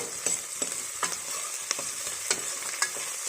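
Ginger garlic paste fries in a pan for a rajma curry, with a soft continuous sizzle punctuated by regular sharp clicks and scrapes as a spoon stirs it, close up and otherwise quiet.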